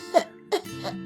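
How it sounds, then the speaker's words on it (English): A single genuine cough bursts out, followed moments later by two more short coughing bursts, close and fairly loud, with no talk over them. "My fake simulated cough elicited an actual genuine cough."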